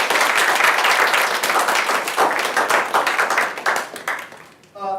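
Applause from an audience at a university biology undergraduate research symposium, loud and sustained clapping from many people that thins out and fades near the end as a voice begins.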